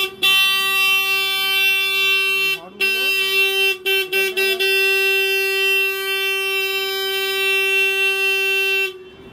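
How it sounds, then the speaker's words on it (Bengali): A ride train at the Howrah Rail Museum near Kolkata sounds its horn in a loud, sustained tonal blast that runs almost the whole time, with a few short breaks near the middle before it cuts off at the end. "এই 4 জন হওয়ার জন্য হর্ন ছাড়লো"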